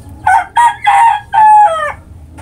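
A stag gamecock rooster in a flying pen crows once up close, a loud multi-part cock-a-doodle-doo lasting about two seconds, with no talking.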